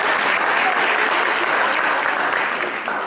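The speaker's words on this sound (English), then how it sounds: "Y'all give him a round of applause." A room full of people gives a round of applause for CJ, dense, even clapping that stays loud and steady for the whole stretch, tapering only slightly at the end.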